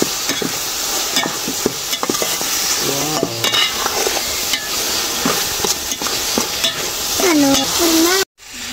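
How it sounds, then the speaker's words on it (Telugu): Prawn curry seasoned with salt and chili sizzles in a pan as a spoon stirs it, giving steady frying hiss with scraping strokes and occasional clinks close by, then a brief cut to silence. "సాల్ట్, కారం వేసేసుకున్నాం. కలిపేసుకుందాం."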